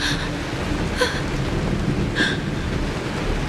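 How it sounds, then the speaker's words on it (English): Steady rain falls in a continuous hiss, with a couple of brief brighter bursts layered over the wash, with no one talking. "It's raining!"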